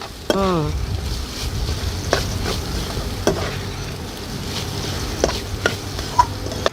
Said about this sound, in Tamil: இது நல்லா பச்சை வாசனை போகிற வரைக்கும் வதக்கணும் இல்லையா?